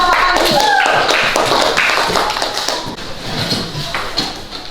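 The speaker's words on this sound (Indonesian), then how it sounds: "Tepuk tangan lagi untuk kelompok manggis." Children applauding in a classroom, giving a dense burst of clapping that starts loud and then thins out, with some voices mixed in.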